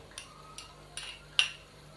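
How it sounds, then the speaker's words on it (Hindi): A spoon scrapes and clinks against a pot while spices are stirred into chicken pulao, four short sharp metallic taps spaced at irregular intervals over a faint steady hum. "इन सब मसालों को शामिल करने के बाद हम इसको अच्छे तरीके से मिक्स कर लेते हैं।"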